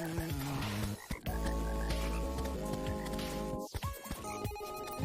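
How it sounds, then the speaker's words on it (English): Croaking toads in the Terraria Spirit Mod give repeated, tonal, ringing croaks that overlap and shift pitch, fairly loud and close, with brief gaps between the bursts. "I love that we got these kind of crazy looking toads everywhere"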